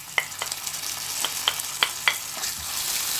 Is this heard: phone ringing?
no